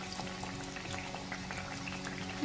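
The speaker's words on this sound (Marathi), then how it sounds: "मस्त त्यांना असं क्रिस्पी तळून द्यायचं आपल्याला चांगलं छानपैकी असं तळून द्यायचं" Stale chapati pieces frying crisp on a tawa in a little oil, a quiet, even crackling sizzle held steady throughout, close by and with no voices.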